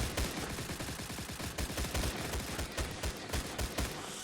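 Gunfire in the video game Stalcraft, with rapid repeated shots in a steady rhythm, loud and close throughout with no pause.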